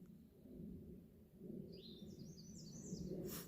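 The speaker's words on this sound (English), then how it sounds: "Hear the birds?" Faint bird chirps and tweets sound in the distance on the Appalachian Trail between Muskrat Creek and Carter Gap, over a steady low rumble of outdoor ambience.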